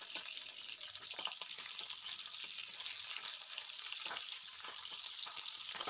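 Garlic and split green chilies fry in a pan for methi shak, with a steady broadband sizzle and occasional stirring scrapes, close and fairly quiet, no talking.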